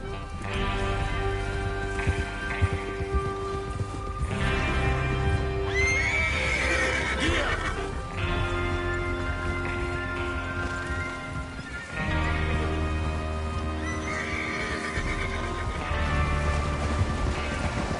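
In a video game, horses whinny over and over amid hoof clatter and a steady background bed, with voices talking underneath.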